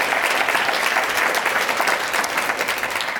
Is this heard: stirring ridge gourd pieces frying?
no